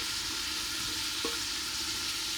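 Canned tomato pours into a hot pan with a brief soft plop, while a steady frying hiss runs throughout the short moment.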